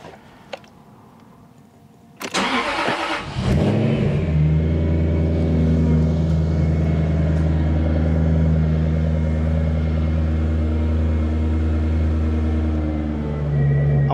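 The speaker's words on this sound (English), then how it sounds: "I'm going to go to the car and start it." A Jaguar XK8 engine cranks briefly for about a second, catches and starts, then settles into a loud steady idle close by with a low droning hum.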